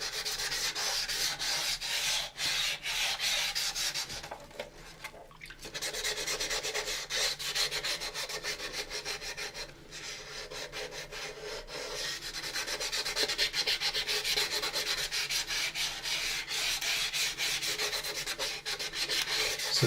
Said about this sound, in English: So this is just a general sanding for demonstration to the video.